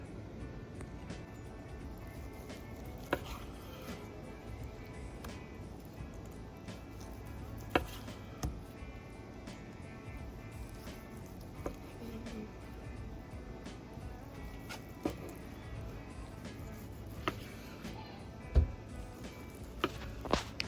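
A knife slices through a smoked breakfast fatty of crispy bacon-wrapped sausage with cheesy eggs, making soft, faint cuts and occasional sharper taps on a board, spaced irregularly over a low background hum.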